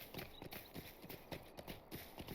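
Galloping horse in Lord of the Rings Online, fast rolling hoofbeats repeating evenly and fairly quietly throughout.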